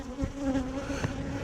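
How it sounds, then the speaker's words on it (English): Honey bees swarm thickly around an open hive during a colony split, a dense, steady buzzing drone close by with no talk. "Crazy amounts of bees falling in here."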